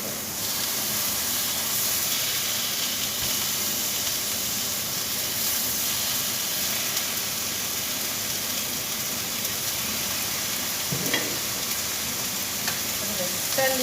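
Chicken breast pieces sizzle loudly and steadily in a hot pan. The frying hiss runs unbroken throughout, with a faint clink near the end.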